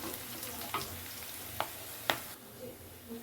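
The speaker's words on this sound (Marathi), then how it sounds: "आता बघा किती मस्त त्याला तळून घेत आहे" Onion with curry leaves frying in a pan, a faint, low sizzle with a few sharp spoon clinks spaced apart.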